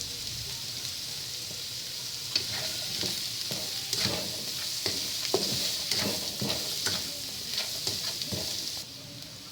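Shrimp and noodles stir-fry in a pan for pancit habhab: a constant bright sizzle with repeated scraping stir strokes at an irregular rhythm, close and fairly loud, with no voices.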